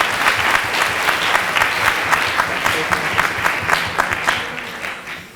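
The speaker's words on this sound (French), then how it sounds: "Alors, sous un tonnerre d'applaudissements, Feriel Matlouti" Thunderous applause from the audience at a national debate cup final, dense rapid clapping with a few sharp individual claps standing out, sustained and loud before tapering off at the end.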